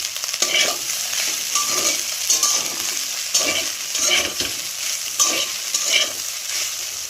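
A spoon stirs pasta in a hot pan just after an egg has been added. Repeated scraping strokes come in a steady rhythm over a constant close sizzle, with no talking.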